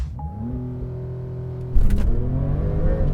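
A Porsche 911 Turbo S making a launch-acceleration run: a steady engine hum with rising tones, then a sudden loud surge partway through as the car takes off. The engine note keeps climbing afterwards, close and alone.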